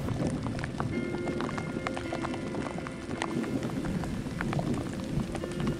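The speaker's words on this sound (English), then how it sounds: "Looks like we could get rained on here now." Steady rain pattering on a mountainside in the Yukon, close and dense, with constant broadband hiss and scattered drop ticks and no talking.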